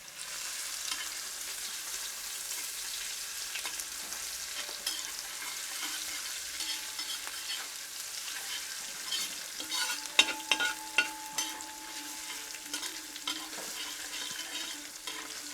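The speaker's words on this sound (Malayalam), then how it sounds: "ഈ വെളുത്തുള്ളി ഇഞ്ചിയുടെ ഒരു കളർ മാറി വരുമ്പോഴത്തേക്കും പച്ചമുളകും സവാളയും കൂടി ഇട്ട് നമുക്കൊന്ന് മൂപ്പിച്ചെടുക്കാം" Garlic, ginger, green chili and onion fry in a pan for a Kerala duck roast, giving a steady close sizzle throughout with a few scraping stirs toward the end.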